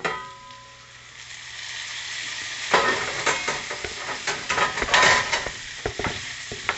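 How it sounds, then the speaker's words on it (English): Beef chorizo, sweet peppers, Spanish yellow onion and cut potatoes go into a favorite skillet, starting from a faint hum and breaking into a close crackling sizzle with repeated utensil scrapes and clinks, no speech. "And I'm cooking in my favorite skillet."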